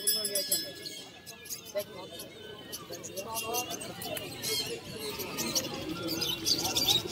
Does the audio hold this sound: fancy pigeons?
yes